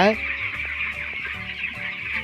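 Broiler chickens cluck continuously on a poultry farm holding several thousand birds, a dense steady chorus of overlapping calls with no talking.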